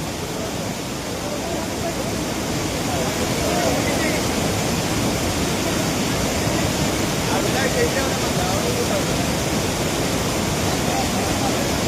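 A waterfall near Yallapura, swollen with rainwater, gives off a dense, unbroken roar of rushing water, loud and constant throughout.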